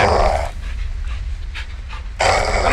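Dog panting in Call of Duty Modern Warfare 2, rapid breathy bursts close by at the start and end of the clip, with a quieter stretch of faint game ambience between.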